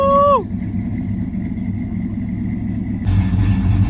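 A Chevy truck engine idles steadily just after starting, a low continuous rumble that grows a little louder near the end; no one speaks.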